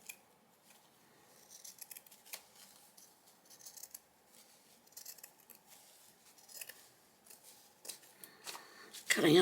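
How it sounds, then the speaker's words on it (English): Scissors cutting up an old paper school project for junk journal crafting: repeated close snips and papery rustling throughout, soft and irregular, with a louder handling noise at the end; no voice. "Cutting up some poor kid's school project."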